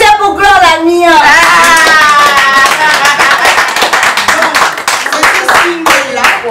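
Audience applause at a French-language press conference, loud and sustained from a crowd, with voices and cheering mixed in throughout.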